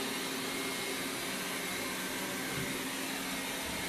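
A Xiaomi Mijia 1C robot vacuum cleaner runs in intensive cleaning mode, giving a steady, even broadband whir with no breaks.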